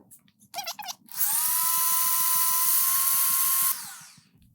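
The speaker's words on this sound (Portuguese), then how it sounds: "Bata por 5 minutos, desligue a sua batedeira" Electric hand mixer beating cake batter after four egg yolks are added, whining at a steady high pitch for a few seconds after a brief rattle, then spinning down.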